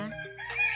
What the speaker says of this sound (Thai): เสียงไก่นะคะ